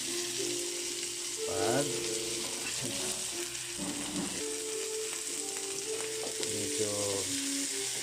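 A hotdog fries in a pan for a Filipino macaroni salad, giving a steady close sizzle with bursts of crackling and a few stirring sounds, while a voice speaks briefly.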